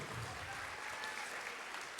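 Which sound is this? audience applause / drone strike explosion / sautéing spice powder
audience applause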